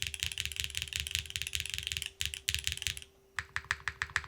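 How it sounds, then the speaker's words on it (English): Brisk typing on the alpha keys of a Neo65cu mechanical keyboard with a carbon fiber plate, rapid clacky keystrokes in bursts with a short pause, then a few slower, separate presses. "But let's see what this sounds like. Little HJ test here. The alphas sound nice."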